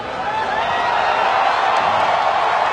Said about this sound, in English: The crowd has come alive.